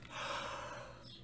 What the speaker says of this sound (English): I apologize, I'm yawning